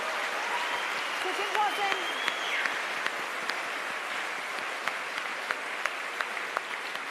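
Applause from an audience at an art auction, a steady wash of many hands clapping that runs the whole time while someone talks over it.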